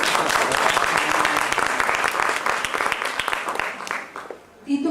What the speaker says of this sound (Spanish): Adelante, un aplauso, por favor.